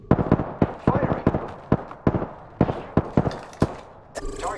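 Rapid bursts of gunfire from the Apex Legends battle royale game, a dozen or so sharp cracks in uneven rhythm, loud and close, followed by a brief mechanical whirr at the end.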